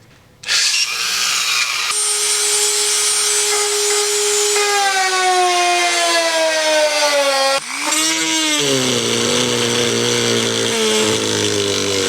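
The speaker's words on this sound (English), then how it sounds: "the way I'm gonna do that is with this little Dremel tool right here." Small Dremel rotary tool cuts into a plastic car bumper on a Subaru Legacy, a loud close whine that starts abruptly, sags in pitch under load, briefly cuts out and spins up again, with no talking.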